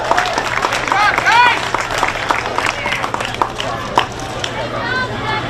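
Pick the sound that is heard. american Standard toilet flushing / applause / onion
applause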